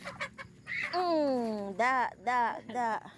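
Chickens being fed during a daily routine: loud, drawn-out honking squawks and clucks from nearby fowl, several calls in a row, with a brief voice at the start.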